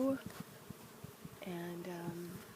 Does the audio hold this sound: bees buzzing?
yes